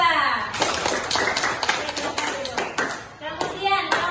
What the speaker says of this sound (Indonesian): Aplaus untuk kelompok 2.